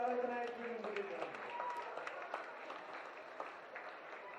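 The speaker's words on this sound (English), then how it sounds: "Can we please get another big round of applause for our runners-up, the Camden Rams in our Open Age Women's Division" A crowd applauds the runners-up, the Camden Rams, at a women's rugby league grand final presentation, with steady distant clapping that follows a voice on a public address system.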